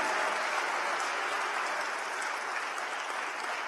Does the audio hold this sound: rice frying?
no